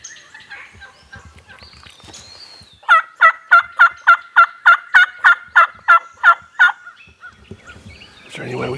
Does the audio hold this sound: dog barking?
no